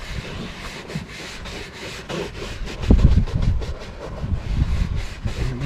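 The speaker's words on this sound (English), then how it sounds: "I'm doing some scrubbing here." A brush scrubs a World War 2 veteran's headstone in steady rhythmic strokes, a close, coarse rubbing that repeats for several seconds with no voices.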